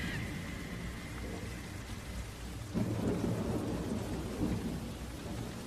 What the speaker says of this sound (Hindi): जंगल में तेज बारिश हो रही थी, हर तरफ पानी की मोटी मोटी बूंदें गिर रही थीं।